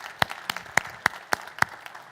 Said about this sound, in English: So another big round of applause for Steve and the work he's done.